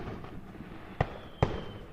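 Fireworks at the end of a rock concert, heard as two sharp, faint pops about half a second apart against a quiet background.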